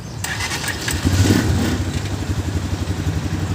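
A 2019 Viar Karya 150L motor tricycle starts up: a brief starter crank, then the small engine catches into a steady, close, throbbing idle that continues alone.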